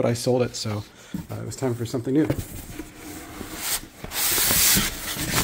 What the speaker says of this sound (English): Sorry for the styrofoam noise.